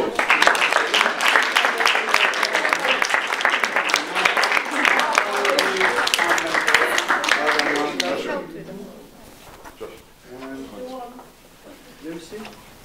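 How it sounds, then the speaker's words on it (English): Audience applause at a student presentation at Ockendon Academy Studio School: steady, dense clapping from a room full of people, fading after several seconds as a voice begins speaking. "Guys, round of applause."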